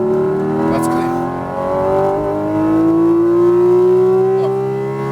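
A Porsche 718 Cayman GT4 RS accelerating hard on a race track, its engine note climbing steadily in a loud, sustained rising drone from inside the cabin, with a voice speaking briefly over it.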